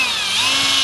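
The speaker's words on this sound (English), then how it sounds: "I'm gonna start out with an 1/8" drill bit, and then I can step up to the bigger sizes here" A power drill with a 1/8 inch bit bores through the metal of an Andersen 400 Series storm door, a loud, close, sustained high whine with grinding edge and no talking.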